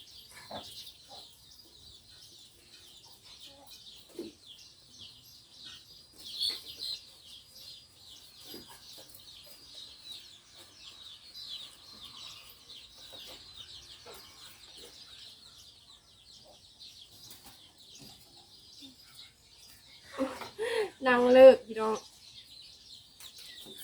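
Chickens cluck and call faintly around a rural Lao outdoor setting, soft scattered clucks through the stretch, then a louder close burst of vocalising near the end; a person speaks intermittently.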